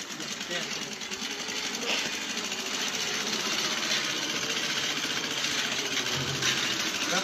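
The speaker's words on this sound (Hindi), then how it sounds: "उन्होंने सिलाई मशीन के साथ साइकिल बांधकर एक ऐसा बेहतरीन जुगाड़ लगाया" A sewing machine rigged to a bicycle as a makeshift jugaad drive runs with a steady, continuous mechanical whir and rattle throughout, with voices faintly audible underneath.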